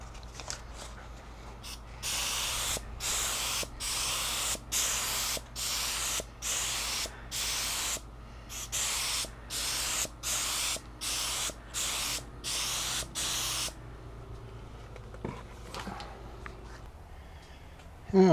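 A sprayer hisses out in about a dozen evenly spaced short bursts, each sharp and fairly close, before falling silent near the end.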